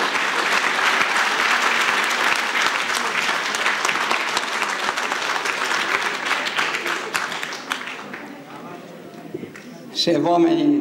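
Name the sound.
audience applauding an author at a book presentation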